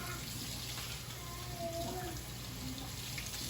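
Water runs from a tap as hands are washed, a steady, fairly quiet broadband rush that stays even throughout, with faint voice traces in the background.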